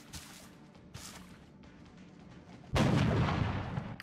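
A soldier's rifle shot in XCOM: Enemy Within fires as a sudden loud, broadband burst near the end, ringing on without voices after quieter game rumbles and soft earlier thumps.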